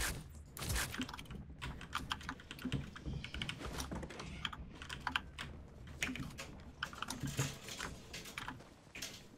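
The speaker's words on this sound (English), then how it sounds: "This has like background noise, like fucking someone slamming keys or something" Someone slams computer keyboard keys in the background of a Fortnite game session, producing a rapid, continuous clatter of hard keystrokes that stays busy and loud for the whole stretch.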